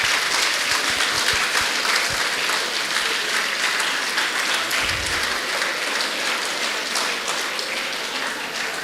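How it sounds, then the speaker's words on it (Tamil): Large audience at a motivational talk applauding in honour of teachers, a loud sustained roar of clapping that eases slightly toward the end, with a few louder thumps early on. "அந்த மாதிரி ஆசிரியர்கள் ஒரு மிகப்பெரிய கைத்தட்டல் கொடுக்கலாமா?"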